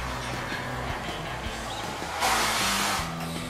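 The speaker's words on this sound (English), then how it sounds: "I'm tack welding everything right now just to make sure everything is straightened out." A TIG welder tack welds a motorcycle frame, giving a steady, close electrical hiss that swells louder for a moment near the end before settling back.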